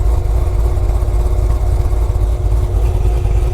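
A 2019 Chevrolet Corvette Grand Sport 2LT with a Lingenfelter-modified V8 rumbles loud and close, a deep steady idle with a heavy low-end throb and no talk.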